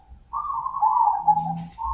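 A zebra dove (perkutut) kept as a cage bird gives a short, soft cooing call, a sustained tonal note with a brief lower murmur, close and clear against a quiet background.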